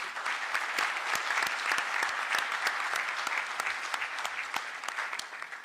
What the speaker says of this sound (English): With applause, we welcome His Excellency.